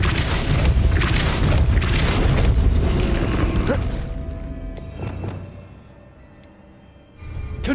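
A Repulso spell fires in Hogwarts Legacy on Switch, giving a loud, rumbling, mechanical blast with creaking and clattering that fades into quieter scraping and thuds, then a sudden surge at the end.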